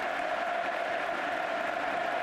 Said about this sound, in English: But again, massive applause for Magic